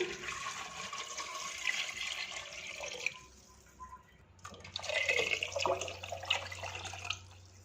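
About 2.5 litres of water runs and splashes steadily into a container while making kanji, a probiotic drink, pausing briefly midway before pouring again more strongly; no voices.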